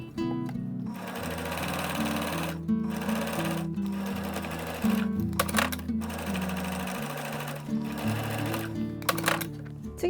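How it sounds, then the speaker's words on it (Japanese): A sewing machine edge-stitches the folded triple hem of a knit sweater, running in several bursts of rapid mechanical whirring separated by short pauses, close and clear with no talking. "ミシンで端ミシンですね、三つ折りしたところの折り目のところを端ミシンで"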